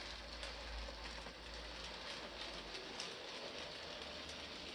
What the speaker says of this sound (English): At 5:25 p.m, Paxton the diesel shunter goes through to the goods yard with his